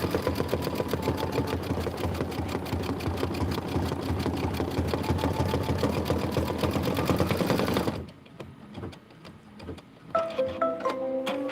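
Kimberbell Sweetheart Street quilt block being stitched out on an embroidery machine: a steady, rapid mechanical needle chatter runs loud and close for about eight seconds, then stops, leaving quieter clicks and small handling noises.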